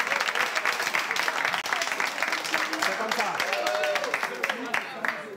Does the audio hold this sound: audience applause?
yes